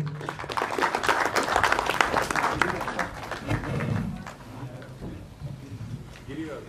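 Applause from the audience at a Telugu film premiere show event, a dense run of many hands clapping that swells early and then thins out, heard alongside a voice on the stage.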